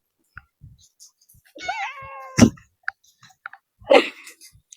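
A cat found at an orphanage gives one rising, wavering meow up close, surrounded by scattered clicks and soft handling noises, with a brief voice-like sound afterward.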